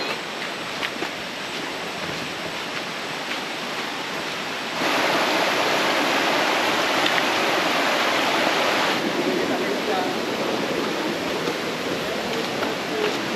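Steady rushing of a river stream at a hiking crossing near a waterfall, a continuous broadband flow that swells louder midway, close and uninterrupted with no talk.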